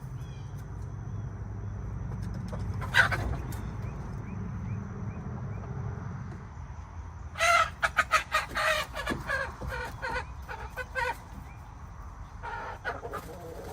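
A rooster and hens cluck and squawk in short bursts, with one loud call near the start and a flurry of agitated clucking later as the rooster tries to dominate the hens, over a low background hum.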